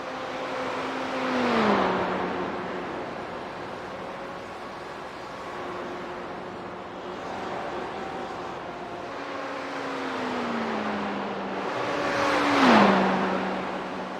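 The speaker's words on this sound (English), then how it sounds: "It is just the GTE cars running here tonight." GTE race cars circle Monza in a sim racing game, engines droning steadily while several cars pass with falling pitch sweeps and a louder car whooshes by near the end. No voices are heard.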